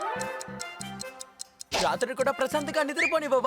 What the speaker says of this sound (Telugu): టిక్ టిక్ అని శబ్దం వస్తోంది